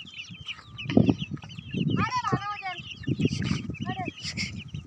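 Hens and chicks cluck and squawk in bursts while being caught by hand, with a few sharp agitated calls and people talking nearby.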